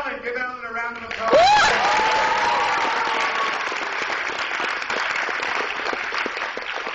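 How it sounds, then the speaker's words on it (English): Applause from an audience at an anime convention acting workshop bursts in after a brief moment of talk, then settles into steady, dense clapping that continues to the end. "give Alan a round of applause."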